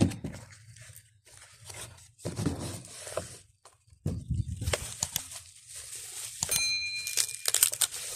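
Packaging for an Omlet automatic door crinkles and tears in bursts, close-up plastic and cardboard rustling with brief pauses between handfuls.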